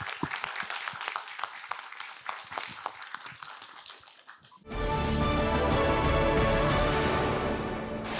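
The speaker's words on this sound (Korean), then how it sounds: "큰 응원의 박수 부탁드리겠습니다" Audience at a Buddhist temple talk giving applause, a dense, steady wash of clapping that starts suddenly halfway through and holds loud to the end, after a quieter stretch of scattered sounds.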